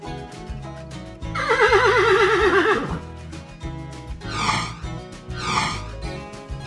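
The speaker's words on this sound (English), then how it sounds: "horse" A horse whinnies loudly in a long, wavering neigh, followed by two shorter snorting whinnies, set against a farm backdrop with steady low background noise.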